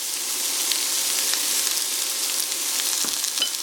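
Onions sizzling in hot sunflower oil in a pan, a loud, steady bright crackle and hiss throughout, with a few faint stirring scrapes, no voices.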